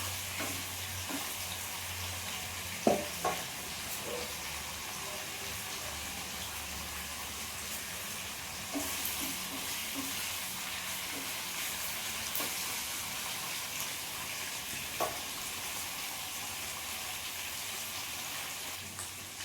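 Snakehead murrel fish pieces fry in hot oil in a pan, a steady close sizzle running throughout with a few sharp pops and clinks of utensils, no voices.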